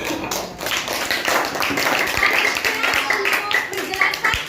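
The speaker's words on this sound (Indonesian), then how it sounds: "beri tepuk tangan lagi satu kali lagi" A school classroom audience claps in a burst of quick, uneven hand claps during a science lesson exam, close and lively, with faint voices mixed in beneath the clapping.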